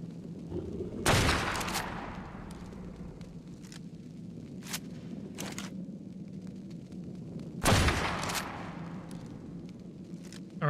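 Gunfire in the video game ARK: The Farewell Tour, two heavy booming shots several seconds apart with long echoing tails, a few lighter cracks between them, and no talk.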